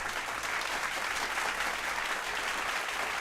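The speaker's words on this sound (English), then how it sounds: "You want to hear some applause clapping?" Applause sound effect played on a comedic show segment, a steady wash of many hands clapping, loud and continuous for the whole stretch with no voices over it.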